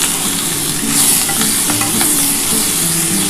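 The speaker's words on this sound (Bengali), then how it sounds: "এটা একটু হালকা করে ভাজা হয়ে গেলে" Tomatoes and slit green chillies fry in a pan with a dense, even sizzle and crackle that holds steady and fairly loud throughout, with faint stirring and no talking.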